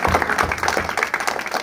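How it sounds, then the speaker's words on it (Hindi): Listeners at a religious lecture give a brief burst of enthusiastic clapping, dense and fairly loud, lasting under two seconds. "पहले तो इनके लिए जोरदार तालियां।"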